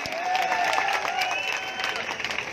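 Crowd clapping at Navjot Singh Sidhu's political rally speech in Hisar, a steady, dense wash of applause and cheering at moderate distance.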